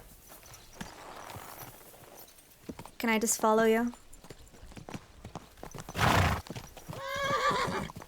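A horse in Kingdom Come: Deliverance II clops along at a walk and gives two loud whinnies close by, while someone speaks over the hoofbeats.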